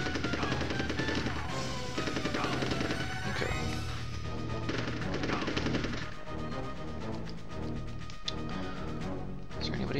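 Video game gunfire in Army Men: Sarge's Heroes, a rapid rattle of repeated shots and crashing impacts over dense game sound, with a brief spoken remark mixed in.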